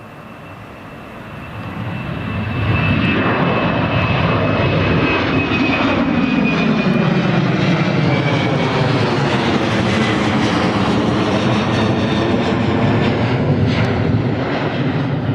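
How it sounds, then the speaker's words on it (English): A Jet2 Boeing 737-800 taking off from Newcastle Airport on runway 25, bound for Dalaman: a loud, sustained jet engine roar that swells within the first few seconds and then holds steady and powerful, alone with no voices. "here comes the the final movement of the day. Jet2 737-800"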